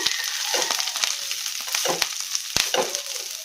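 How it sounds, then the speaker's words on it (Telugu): Coriander leaves sizzle in hot oil in a kadai, a bright continuous crackle close by with a few sharp clacks of stirring scattered through it. "ఇప్పుడు ఇదే ఆయిల్లో కొంచెం కొంచెం కొత్తిమీర వేసుకుంటూ వేయించుకోవాలండి."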